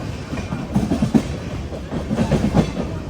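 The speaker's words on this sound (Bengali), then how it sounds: "রানাঘাট স্কিপ করে বেরিয়ে যাচ্ছে কলকাতা সাইরাং এক্সপ্রেস" The Kolkata–Sairang Express runs through Ranaghat station in Nadia district without stopping, a loud, close rumble with rhythmic clickety-clack as the wheels cross rail joints.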